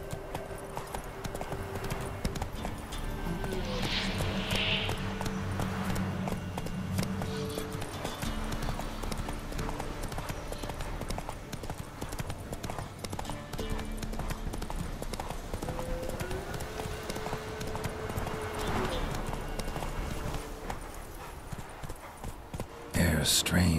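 Roach the horse from The Witcher 3 gallops with a steady, rhythmic clip-clop of hooves throughout, close and continuous. A voice speaks over it, and a brief whinny rises now and then.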